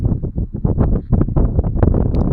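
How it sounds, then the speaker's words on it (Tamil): Strong gusts buffet the microphone in a continuous, rumbling roar with choppy bursts, loud and close. "காற்று நிறையா அடிக்குது"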